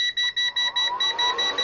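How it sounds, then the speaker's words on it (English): A Kaiweets HT208D AC/DC clamp meter beeps in a rapid, evenly pulsed series of short high tones, close and clear, signalling a current reading near the top of its range. "it starts to beep."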